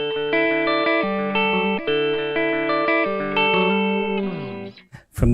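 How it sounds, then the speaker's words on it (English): An electric guitar plays through a Hudson Broadcast pedal with a sparkly clean tone. Ringing chords change in a steady rhythm, close and clear, with no voices. "the Hudson broadcast, which is kind of just sparkling up, usually clean tones a bit"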